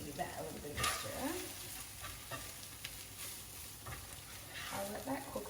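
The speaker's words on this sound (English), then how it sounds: "Give that a little bit of a stir" Pasta sauce stirred in a pan, a soft scraping swirl over a steady low sizzle, fairly quiet and close, with a few brief knocks of the utensil and no talking.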